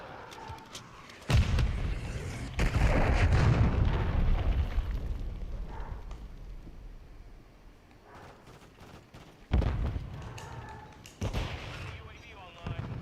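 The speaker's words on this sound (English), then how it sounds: "Hostile launched a cruise missile." Cruise missile explosions in Call of Duty Modern Warfare III rumble as heavy, booming blasts with long low tails, two big impacts a few seconds apart amid ongoing battle noise and announcer-style voices.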